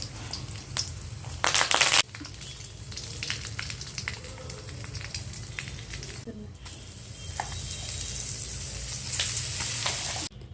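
Oil sizzles and crackles steadily as dried red chillies, curry leaves and cumin hit the pan for a tempering, with bursts of sharper spattering and occasional stirring scrapes.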